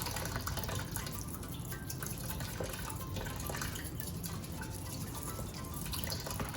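A tap runs slowly over clams being scrubbed with a toothbrush, giving a faint, steady trickle and splash that continues unbroken with no one talking.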